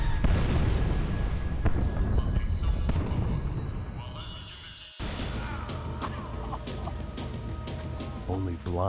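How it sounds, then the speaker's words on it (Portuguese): A bomb blast in Max Payne 3 comes as a heavy, sustained roar of debris and rumble that cuts off abruptly, followed by quieter ringing, crackling aftermath with scattered clicks and a voice speaking. "Only blind luck it meant the blast wasn't fatal."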